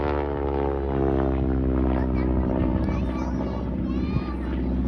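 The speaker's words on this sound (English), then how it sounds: "I love that sound of these old round engines" A vintage aircraft's Pratt & Whitney radial engine of about 600 horsepower runs at an air show, a deep, steady throbbing drone with strong low harmonics, close and continuous.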